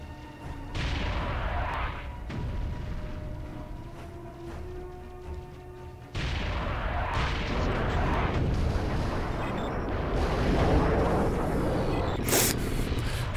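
Artillery fire booms in the strategy video game Warzone 2100, a series of heavy, rumbling blasts and crashes layered over a constant dense roar, loud and sustained with sharper impacts near the middle and end.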